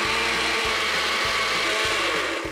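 A kitchen blender runs loud and steady, its motor roar filling the clip with a rhythmic low pulsing about every half second as contents churn, no voices over it.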